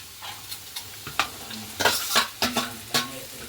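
Diced potatoes fry in a pan with carrot and egg, making a soft sizzle under repeated scraping and stirring clatter as a utensil strikes the pan in quick, uneven strokes.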